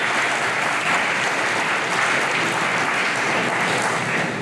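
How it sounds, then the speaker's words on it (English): Sustained applause for a co-valedictorian at a graduation ceremony, a large audience clapping steadily and loudly from start to finish with no talk over it. "Another round of applause for our co-valedictorian, Harold Nye."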